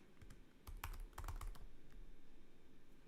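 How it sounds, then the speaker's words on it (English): Quiet keystrokes on a computer keyboard, a short burst of several close clicks in the first half-second or so, followed by faint room hum without speech. "So if I type it in"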